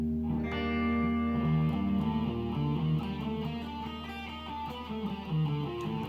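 Electric guitar with effects plays a melodic line drawn from a Lydian hybrid pentatonic scale over a sustained backing chord, with notes ringing into each other at moderate volume and no talking.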